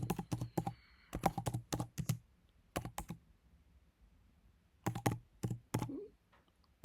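Typing on a computer keyboard while searching a university admissions platform, with short bursts of rapid clicking keystrokes separated by pauses, close and clear, alone.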